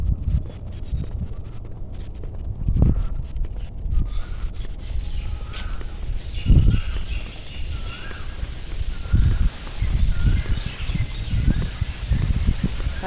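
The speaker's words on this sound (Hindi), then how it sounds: "कोयल की आवाज़ आ रही" An Asian koel calls outdoors on a morning, repeating rising notes in the mid-distance over steady wind and rustling leaves.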